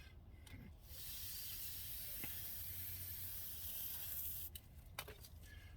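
Aerosol spray of enamel paint laid on thick over a scale model 1963 Mustang II body: a continuous close, even hiss lasting several seconds, preceded and followed by brief short bursts.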